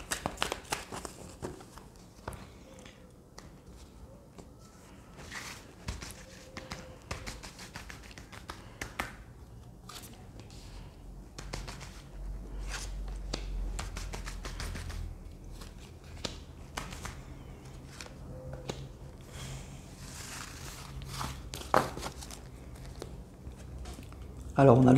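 Tarot cards drawn and handled, with soft taps, flicks and papery slides scattered throughout under a quiet voice talking in French.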